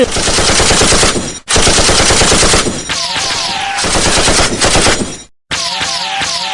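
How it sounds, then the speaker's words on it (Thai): Loud rapid machine-gun bursts in an animated show, long sustained volleys broken by brief gaps, with high metallic ringing tails. "หยุดยิงเดี๋ยวนี้"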